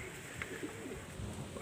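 Pigeons coo softly in a low, murmuring burble that stays steady and fairly quiet throughout, with no voices over it.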